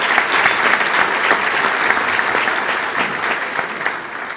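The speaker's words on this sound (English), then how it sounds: "Would you please give them a round of applause?" Sustained applause from a seated audience at a Touchdown Club meeting, a dense, steady wash of many hands clapping close by that holds strong throughout and eases only slightly at the end.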